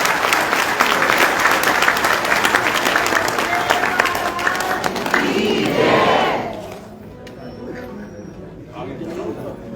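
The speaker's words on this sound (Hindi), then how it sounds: "मैं चाहूंगा जोरदार ताली आप सबकी तरफ से करनी चाहिए।" Loud, sustained applause from the audience at a bhakti satsang devotional gathering, dense clapping with some crowd voices that swells for about six seconds and then drops away, with a voice continuing afterwards.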